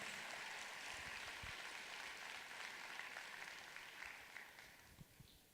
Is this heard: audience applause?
yes